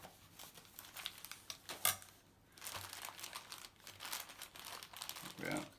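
Plastic sheeting crinkles and crumples at close range as it is fitted into a small garden project, with irregular rustling bursts throughout and a little speech mixed in.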